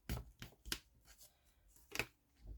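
Paper folded for paper flowers is pressed and creased in a few faint, close, crisp rustles and scrapes separated by quiet gaps.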